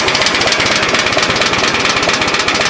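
A car engine idling roughly and barely running in neutral, with a suspected failing oil pump and intermittent oil pressure, giving a loud, close, steady, rapid chugging pulse with no talk.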